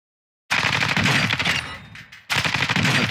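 Rapid automatic gunfire in a Call of Duty DMZ firing range, starting abruptly as two loud, close bursts separated by a brief pause.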